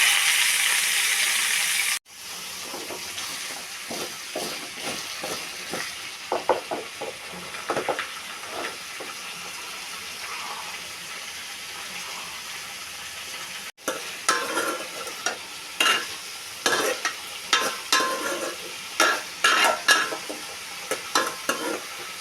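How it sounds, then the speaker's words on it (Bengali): Chopped vegetables and a bay leaf fry in a pan, giving a steady sizzling hiss that is broken by repeated scraping and stirring strokes from a spatula, close and moderately loud. "দিচ্ছি তেজপাতা। দিয়ে দিচ্ছি কেটে ধুয়ে রাখা সবজি।"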